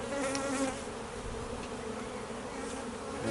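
A mass of honey bees hums continuously at an open hive while being shaken into a brood box, a thick close drone with small flickers of higher buzzing layered on top.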